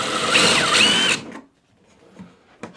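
A power drill bores a hole for a lower rifle rack support bracket, running loud and steady with a whining pitch for about a second before cutting off, followed by faint handling clicks.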